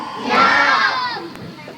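A large audience at a Sundanese Islamic religious lecture shouts a loud, unified cheer. The roar swells quickly, holds, then tapers into a lingering crowd murmur.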